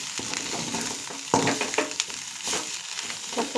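Egg and amaranth leaves fry in a pan with a steady sizzle, broken by scraping and clinking as the mixture is stirred. The sizzle is close and continuous throughout.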